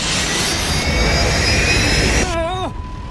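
Jet airliner engines roar loudly in reverse thrust during landing, a dense broadband rush with steady whining tones, then the roar cuts away as pitched turbine tones sweep downward and fade.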